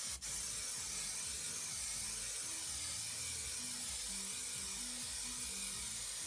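A steady, even spray hiss as a coat is applied to plywood, continuous and close throughout.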